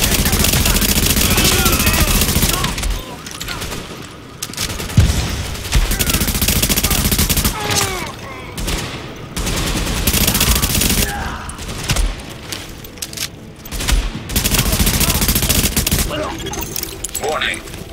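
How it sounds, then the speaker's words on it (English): Loud gunfire rattles in The Division during a fight with hostiles attacking a supply drop, dense bursts of shots with short pauses between them. Game voices speak over the shooting. "they're shooting at the nice people trying to bring in our latest supply drop"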